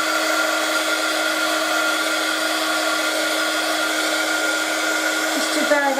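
A heat tool blasts steadily and loudly for several seconds to dry ink on a watercolour bookmark, a constant whirring hiss that shifts slightly near the end, with no talking.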